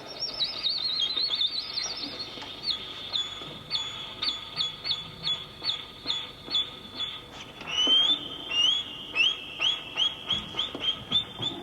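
A violin played very high on its top string imitates birdsong, with rapid high trills and short chirping repeated notes in quick, uneven bursts, close and clear, with no talking.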